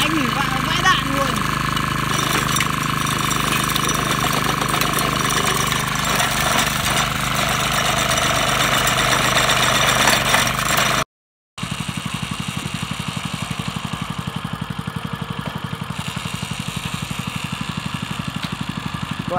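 A Shibaura KF552 Japanese rotary tiller engine roars steadily while its blades mill soil in one spot, a loud continuous rattling drone that shifts in tone after a short break, with no speech.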